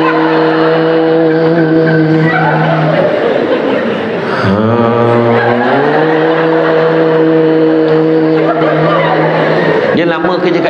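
A voice imitates a ship's horn as a snore, producing long, loud, droning blasts that slide up and down in pitch.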